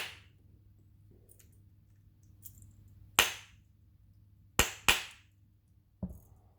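Sharp metallic taps strike a dirty, gummed-up stuck pin, four crisp hits spaced irregularly over a low steady hum, with two of them landing close together.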